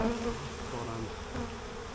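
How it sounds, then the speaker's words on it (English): Dense, steady buzzing of many honeybees around a hive cluttered with burr comb, a continuous close drone with no voices. "so you can see quite a few bees are out"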